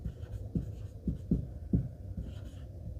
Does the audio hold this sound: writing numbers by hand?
yes